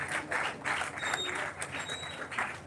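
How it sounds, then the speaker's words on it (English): Audience applause at a political party gathering, a steady patter of many hands clapping through the whole stretch at moderate level, with a faint voice briefly underneath. "If you can give them a round of applause"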